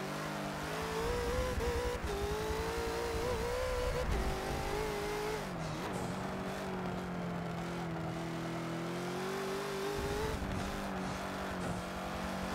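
A Bentley GT3 race car in Forza accelerates out of a corner at the Hockenheimring, its engine note climbing and shifting through gears over several seconds, loud and steady with brief tire scrubs, no talk over it.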